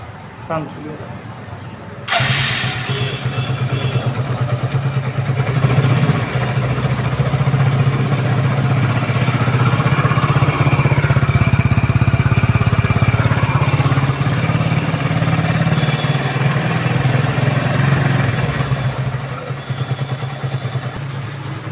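A motorcycle engine idles close by with a steady low rumble and light mechanical clatter, kicking in louder after a couple of seconds and holding constant.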